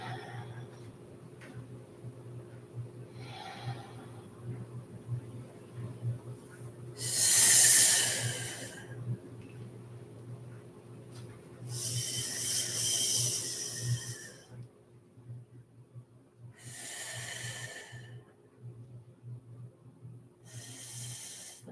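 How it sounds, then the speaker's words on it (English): Slow breaths drawn in and pushed out during a Tiger and Crane qigong exercise, several soft airy inhales and exhales in a row over a low steady hum, with no talking. "So taking a breath in."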